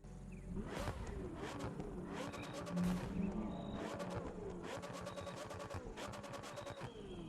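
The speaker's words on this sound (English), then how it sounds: "let's take a listen to that engine" A McLaren 765LT engine in a racing video game revs hard and climbs through several gear changes, each pull rising in pitch before dropping, steady and loud throughout.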